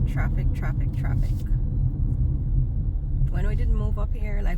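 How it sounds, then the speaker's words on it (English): Low, continuous rumble of road traffic heard from inside a car, with a person talking over it at the start and end. "All right, traffic."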